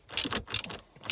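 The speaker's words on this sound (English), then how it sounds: "I'm just going to take out the 2 screws that are here now" Screws being backed out of a Ford Focus ST centre console produce close, loud mechanical ratcheting in a few quick bursts with short pauses between, and no talking over them.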